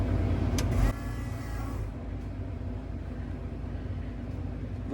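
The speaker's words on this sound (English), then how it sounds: "let me try to fire it up and see if I can work with the high idle a little bit" Engine of a 1970 Ford Maverick turning over and catching, a brief loud start burst followed by a steady, low rumbling high idle that continues close by without any talk.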